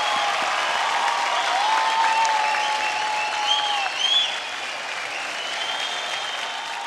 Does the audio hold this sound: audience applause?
yes